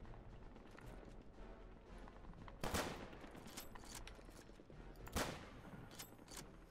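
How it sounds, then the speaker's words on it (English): Gunfire in the video game Return to Castle Wolfenstein, two sharp bursts of shots a few seconds apart over a faint, steady background, quiet and somewhat distant. "That would have been the guy that was shooting at me."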